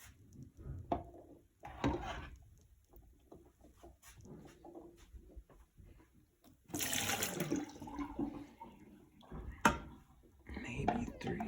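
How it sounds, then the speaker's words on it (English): Water scooped from a pot of freshly boiled eggs and poured out, heard as a couple of splashing dumps and sloshes in a kitchen, one loud splash near the middle, with a person talking through parts of it. "I like to just take a little water out. Just dump it out."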